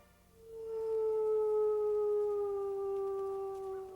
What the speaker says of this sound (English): Not many sounds can send shivers up your spine like a wolf howl.